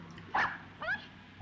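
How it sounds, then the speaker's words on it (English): Small dog from the 1954 film Rear Window gives two brief yipping barks in quick succession, moderately loud over a quiet room-tone background. "The dog."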